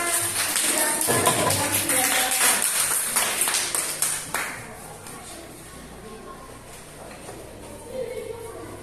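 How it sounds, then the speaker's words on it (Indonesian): Children clap together in a primary school classroom, a brisk burst of many hands that fades after about four seconds into quieter room noise. "Tepuk tangan buat anak-anak."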